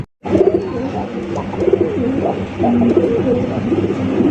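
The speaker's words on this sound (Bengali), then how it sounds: "পাগলা একটা নর কিন্তু চমৎকার একটা কালারিং রাসগোল্লা কবুতর" Fancy Rasgolla pigeons, including a black-coloured male, coo repeatedly in soft rolling phrases close by, with a steady low murmur of the flock throughout and no talk.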